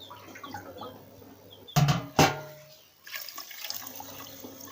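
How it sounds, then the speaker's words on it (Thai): Water poured into a pot to cook rice over a wood fire, heard as two short close splashing bursts of pouring with a quieter trickle afterward, set against faint outdoor background noise. "เราจะไปใส่น้ำกันแล้วนะคะ ก็ใส่น้ำหุงข้าวปกตินะคะ ใส่ลงไปนะคะ"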